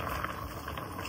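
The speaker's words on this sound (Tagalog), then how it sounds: "Ayan, kumukulo na." Water at a rolling boil in a cooking pot for carbonara pasta, a steady close bubbling and hissing texture that holds evenly throughout with no voices.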